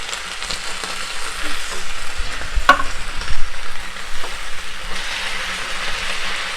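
Baby corn chilli tossed in a hot pan, a loud close sizzle that swells and settles with stirring, and a metallic clink mid-way, with no talk.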